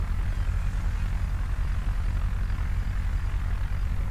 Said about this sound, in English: Sounds like a drone.